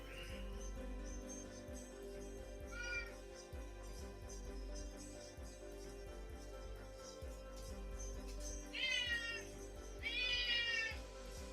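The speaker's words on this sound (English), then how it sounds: "That's my cat Chevy. He's very loud" A pet cat meows loudly and repeatedly indoors, with several drawn-out meows rising above a low, steady background hum.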